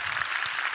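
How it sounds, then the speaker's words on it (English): Audience applause for the Power Percussion act at the Brain Forum 2016 opening, a steady dense burst of clapping filling the short moment without talk. "Another round of applause, please, ladies and gentlemen, for Power Percussion."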